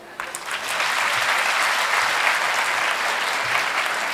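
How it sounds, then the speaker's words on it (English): Indoor audience at an education event breaking into steady, dense clapping that starts abruptly and holds loud throughout. "Can we clap for him?"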